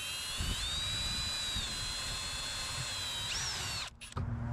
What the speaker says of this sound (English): He's going to run the drill bit through it.